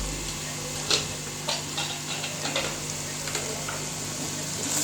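Spices, salt, crushed red chilli and turmeric being stirred into a pot of black chickpea curry, with a soft continuous sizzle and scattered light scraping and clinking of a spoon against the pot.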